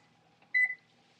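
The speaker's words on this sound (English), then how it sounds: "I'm going to set the timer for 25 minutes." A single short electronic beep from a kitchen oven timer as it is set while baking oat and sweet potato muffins, clear and close against a quiet room.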